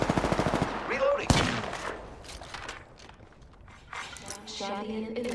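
A rapid burst of automatic gunfire in the shooter Apex Legends opens the moment, followed by a sharp shot and game voice lines over quieter battle noise.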